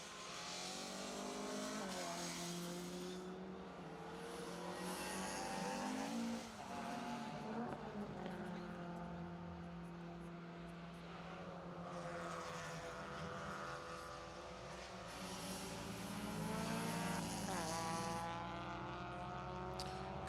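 A 1300cc rally car engine drives up a mountain stage, droning steadily with rising and falling revs through gear changes, loud and sustained throughout with no talk.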